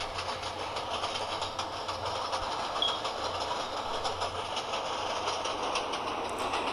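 An R42 subway train on the M line rolls steadily along the rails with a continuous rumble and faint rhythmic clacking, sustained and fairly loud throughout, in a train simulator game.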